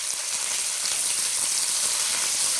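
Chopped onions, green chillies and curry leaves sautéing in a pan, a dense, even sizzle with faint stirring scrapes, close and continuous.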